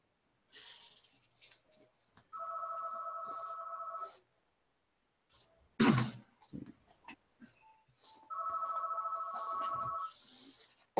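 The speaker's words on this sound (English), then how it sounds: "That's actually the fax machine." Fax machine on an open line during an online meetup call, sending two sustained steady electronic tones a few seconds apart, with brief chatter and clicks between them.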